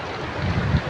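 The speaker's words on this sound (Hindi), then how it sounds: "पानी आ रहा है ना बहुत, ये पत्थर भी उड़ा देता है, इतना पानी तेज़ है ना" Strong floodwater rushes past as a continuous broadband roar, fast enough to carry stones, swelling slightly near the end of the very short clip.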